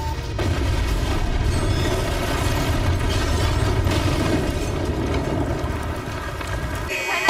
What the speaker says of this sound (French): Le vol 297 s'est écrasé.